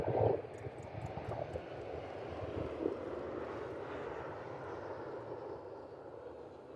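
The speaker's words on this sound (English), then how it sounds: "There you go, that one touching down from Malaga this afternoon." A Ryanair airliner inbound from Malaga touches down at East Midlands Airport, heard as a steady broad jet roar at moderate distance that holds through the clip with a faint rumble underneath.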